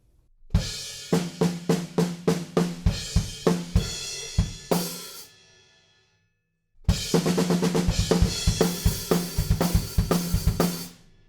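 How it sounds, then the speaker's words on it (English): Drum kit playing a snare roll from a song that slides back into the beat: a loud run of sharp snare hits, a short silent gap, then a dense driving pattern of kick, snare and cymbals, with no voices. "we have this cool kind of like snare drum roll that just morphs itself back into the beat"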